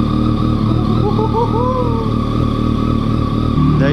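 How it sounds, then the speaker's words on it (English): A Yamaha FZ/MT-09 motorcycle fitted with an Akrapovic carbon fiber exhaust idles loud and close after start-up, a deep, steady rumble with a pulsing beat and a brief rise in revs near the end. "So first start up with the new Akrapovic system."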